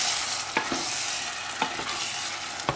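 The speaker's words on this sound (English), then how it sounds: "Let's add a tin of spaghetti in. Start heating that up," Tinned spaghetti heating in a pan hisses with a constant broadband sizzle, while a utensil stirs it with a few sharp clicks and scrapes against the pan.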